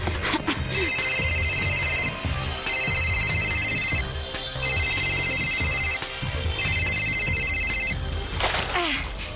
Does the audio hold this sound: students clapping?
no